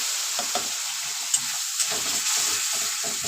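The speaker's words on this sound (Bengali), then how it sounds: "এবার মিডিয়ামে মশলাটা কষিয়ে নেব।" Spice paste sizzling and frying in a pan with a little added water while cooking kochur loti with shrimp, a steady hiss with soft stirring scrapes and a few brief clicks, close by and alone.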